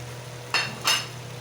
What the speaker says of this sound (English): So here at this stage, I am going to add the fried soya.